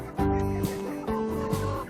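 Hens in a backyard coop cluck in short, harmonic bursts, several calls overlapping and close by, with no talking.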